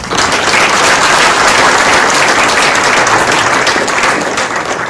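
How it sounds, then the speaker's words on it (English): An audience at a spiritual talk gives a loud, sustained round of applause, dense clapping that holds steady and then begins to taper near the end. "Again, I can give another round of applause."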